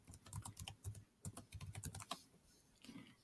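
Fingers tapping out a Wi-Fi password on a Chromebook laptop keyboard, a quick run of close, crisp key clicks in uneven bursts with a short pause near the end, no voices over it.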